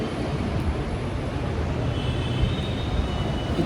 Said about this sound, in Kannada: ಮೆಟ್ರೋ ಬರಲಿ, ಈಗ ಮೆಟ್ರೋ ತೋರಿಸ್ತೀನಿ